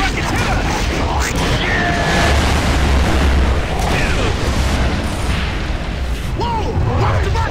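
Rocket blasts in Gears of War 2 boom continuously in a dense, loud battle din, with rumbling explosions layered over chaotic combat noise.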